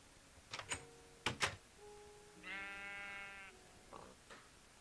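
Sheep in Minecraft bleating twice in quick succession, followed by a longer, nasal, wavering bleat at moderate volume, with faint clicks in between and no talk.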